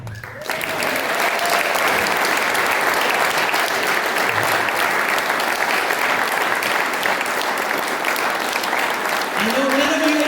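A banquet crowd at a high school alumni Hall of Fame induction gives sustained, loud, even applause, with a voice talking briefly at the start and again near the end.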